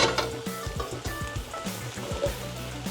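Sausages tossed into a pan of frying curry vegetables sizzle steadily while a utensil stirs them, giving repeated scraping strokes over the continuous crackle; close and moderately loud, with no talk.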